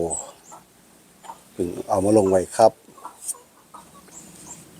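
Laying hens, a small backyard flock kept for eggs, give a short burst of loud close clucking in the middle, with someone speaking softly before and after.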